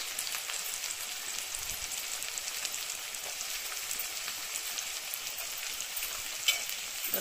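Onions sizzling in hot oil, browning as they fry, with a steady, even hiss of frying that runs throughout, fairly close and uninterrupted by speech.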